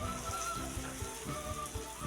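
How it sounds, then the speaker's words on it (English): Bolivian buñuelo dough frying in very hot oil, a steady close crackling sizzle that runs without a break, with no talk. "Now we're gonna fry it, and it's gonna be quickly done because our oil is very hot."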